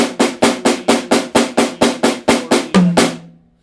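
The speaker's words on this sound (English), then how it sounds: "it's all on the snare drum except for one tom way at the end" A drum fill played on a snare, about a dozen evenly spaced sharp strikes in a steady rhythm, with the last hit on a lower-pitched tom that rings out briefly before fading. Close and loud, no voices.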